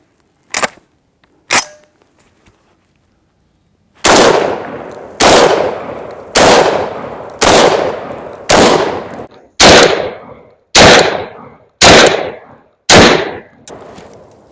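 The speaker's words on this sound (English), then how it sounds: "This is some pretty potent buckshot, double-aught, and seems to work really good in the VRF14." A Rock Island VRF14 12 gauge semi-auto shotgun fires double-aught buckshot outdoors. Two lighter cracks come first, then ten booming blasts at a steady pace of about one per second, each ringing out briefly.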